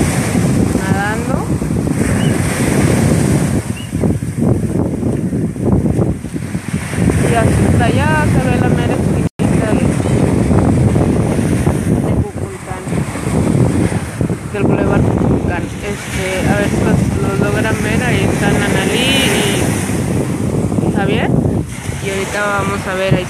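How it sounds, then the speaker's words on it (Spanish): Ocean waves wash onto the sandy beach at Cancun under heavy wind buffeting the microphone, while a person talks over the surf almost throughout and brief gull-like calls come through. "ahí está el mar, está la arena bien bonita"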